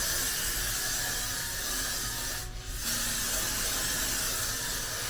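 A spray bottle mists continuously and close-up at home during hair maintenance, a steady loud hiss running throughout with only a brief dip near the middle.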